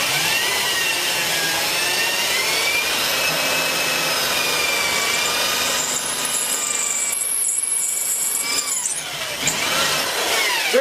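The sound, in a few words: drilling a hole while making an edge plane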